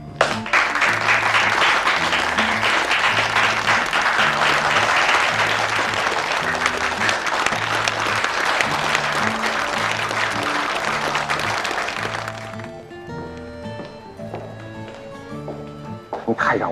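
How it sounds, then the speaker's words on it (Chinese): An audience welcomes a judge with loud, dense applause sustained for about twelve seconds before it breaks off and gives way to soft tonal music. "让我们以热烈的掌声欢迎齐法官的到来。"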